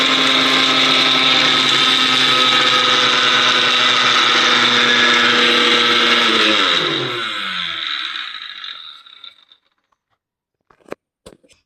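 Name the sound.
mixer grinder grinding garlic and tamarind for chutney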